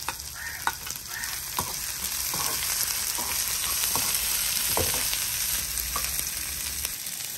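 Onions with green and dried red chillies sizzle steadily in hot oil in a pan, a continuous close frying hiss broken by occasional clicks of a spoon stirring.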